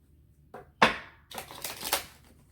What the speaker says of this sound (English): That was a terrible, terrible shuffle.